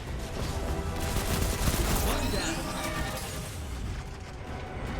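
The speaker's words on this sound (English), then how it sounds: "That guy just tried to machine gun me." Rapid automatic gunfire from an SMG-type weapon in a Destiny-style shooter, dense continuous bursts mixed with booms and explosions, loud throughout and overlapping game action with a voice speaking.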